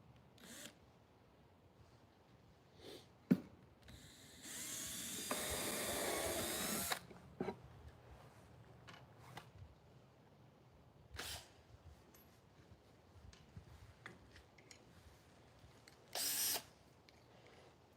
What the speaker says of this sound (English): I'm going to drill it over here.